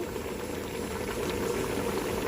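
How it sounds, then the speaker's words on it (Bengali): Taro leaves boil in a pot on the stove, giving a steady, close bubbling and rolling simmer with no voices. "ধোয়ার পরে এখন আমি হাঁড়িতে করেই সিদ্ধ দিয়েছি"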